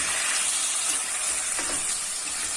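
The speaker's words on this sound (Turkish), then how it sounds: "Patlıcanlarımı da çok kısa bir süre şöyle kavuracağım" Eggplant sautéing with pepper paste in a pan for a Hatay dish, a steady close sizzle and hiss throughout with faint stirring scrapes, no talk.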